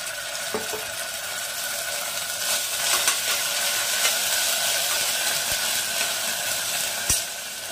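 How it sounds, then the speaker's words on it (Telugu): Onions fry in a pan for potato kurma with a steady, hissing sizzle up close, broken by a few faint scrapes and taps of a utensil and no talking. "కొంచెం బాగా వేగనివ్వాలి, ఈ రంగు రావాలి ఉల్లిపాయలు."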